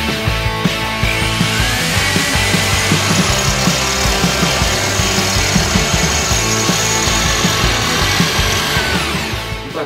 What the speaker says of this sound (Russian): Так, вот мы просверлили все 7 дырочек